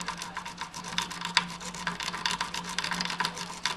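A wave rake scrubs rapidly back and forth across the pins of a locked lock, making a quick, rhythmic metallic scratching and rasping. It is close and fairly clear, with no talking.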